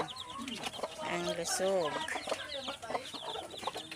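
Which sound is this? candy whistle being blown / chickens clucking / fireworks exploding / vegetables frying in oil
chickens clucking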